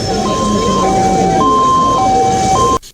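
A loud, close ambulance siren in Touba, Mali, sounds a steady two-tone hi-lo wail, alternating pitches about every half second for nearly three seconds before cutting off abruptly.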